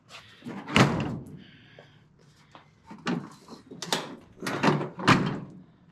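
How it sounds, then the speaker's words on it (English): Doors of a 1934 Ford panel truck hot rod latching: several sharp thunks and clicks of metal door hardware, close by, spaced irregularly across the stretch with quiet gaps between them. "The doors latch."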